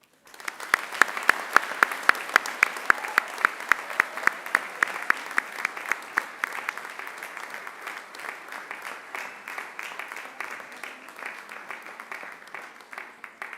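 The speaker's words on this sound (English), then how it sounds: "And I'd like you to join me in giving them an almighty round of applause." A large crowd at a university graduation ceremony delivers sustained applause, loud and dense with a few individual claps standing out early, then gradually thinning and softening toward the end.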